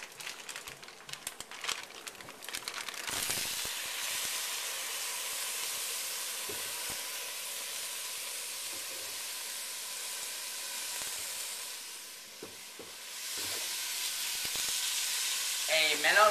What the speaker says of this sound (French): on va ajouter le bœuf qu'on a mariné.